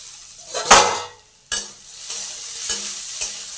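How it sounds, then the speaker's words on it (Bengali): Soybean chunks fry in a pan with potatoes nearby, giving a steady sizzle punctuated by sharp scrapes of stirring; a loud stir near the start, then a few clear clinks and scrapes over the crackle. "দেখি সয়াবিনটা ভাজা হয়েছে কিনা।"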